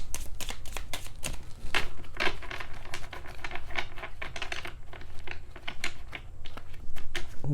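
An oracle card deck being shuffled by hand, a run of soft rapid riffling and patting card sounds with brief pauses, close and quiet, with no talking.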